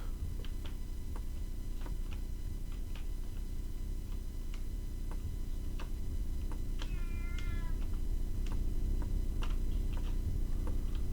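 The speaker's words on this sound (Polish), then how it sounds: "Na pewno słyszycie to miauczanie. To jest właśnie miauczanie tego kota." A cat meows repeatedly in a quiet room amid steady ticking, a faint rhythmic tick-tock running throughout beneath the sparse, moderately near calls, with no one talking.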